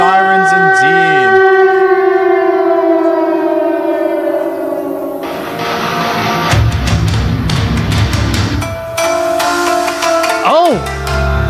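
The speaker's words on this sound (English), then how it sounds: "Oh, we're hearing some air raid sirens. Eerie sirens indeed." Eerie air raid sirens wail in long sustained rising and falling tones, loud and layered, later joined by crowd-like noise and shifting wind-up sweeps near the end.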